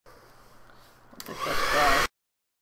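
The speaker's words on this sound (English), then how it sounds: "we're going to take our hair dryer real quick and I'm just going to dry this" A hair dryer blowing on wet paint starts up abruptly after a quiet moment and runs with a steady, loud whoosh for about a second before cutting off.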